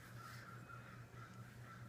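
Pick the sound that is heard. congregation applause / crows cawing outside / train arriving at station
crows cawing outside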